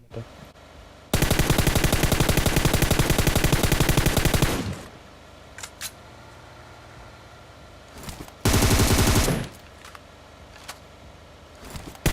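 M4 rifle automatic fire in the PUBG video game: a long rapid burst lasting several seconds, then scattered single shots and a second shorter burst, loud and close.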